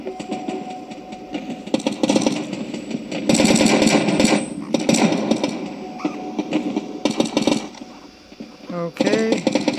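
Gunfire in the mobile shooter Battle Prime, an online PvP FPS, comes in dense rapid bursts over a steady game engine drone, with a few quiet gaps and a player talking at times.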